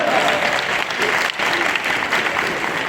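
Audience applause fills a literature festival hall at the Gandhara Citizens Club in Islamabad, a dense steady clapping that holds loud throughout with a brief dip in the middle.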